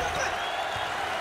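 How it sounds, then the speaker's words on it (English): Basketball arena crowd at a college SEC tournament game between Arkansas and South Carolina, a steady dense roar of cheering and applause filling the space throughout, loud and continuous. "Well, listen to those fans. The crowd is thunderous."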